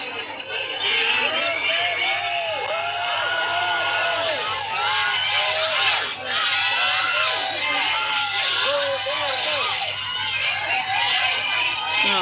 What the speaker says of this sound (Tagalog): Grabing ingay, oh. Pinagkaguluhan ang rockstar na presidente, oh.